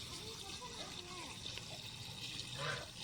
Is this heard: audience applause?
no